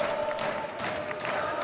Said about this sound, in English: Lots of chanting and stomping and cheering from that far side.